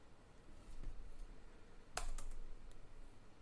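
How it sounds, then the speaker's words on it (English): A few sparse clicks of keys on a computer keyboard, tapped at an uneven pace against a quiet room background. "I'm just typing Joe"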